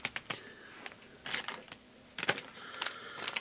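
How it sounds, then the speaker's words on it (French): Crisp, intermittent crackling and crinkling of scrapbooking paper in short bursts, close by and fairly quiet, with brief pauses between handlings. "Pardon pour le bruit de papier."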